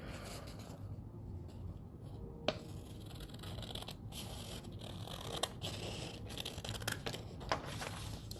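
Scissors cut a card sheet in half along a line while making a thank-you card, a soft, faint scratchy rasp with a few small snips and crisp clicks spaced through it.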